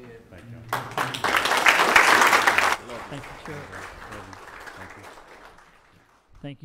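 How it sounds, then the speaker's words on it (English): A church congregation bursts into loud, sustained applause for about two seconds, then it fades into scattered clapping and murmuring, with a voice speaking over the tail. "Give them a round of applause."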